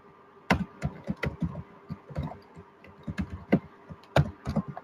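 Computer keyboard typing while writing a Python script, a close run of irregular clicky keystrokes in short bursts with brief pauses between, no voices.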